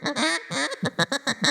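A duck call blown to imitate a content feeding duck: a couple of drawn-out, raspy quacks followed by five short, evenly spaced quacks, loud and close with nothing else heard.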